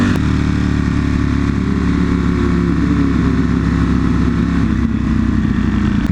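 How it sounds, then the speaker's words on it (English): A motorcycle engine drones steadily and loudly throughout, a low rumbling note with no talking, like engine braking while rolling downhill. "Engine braking is too powerful!"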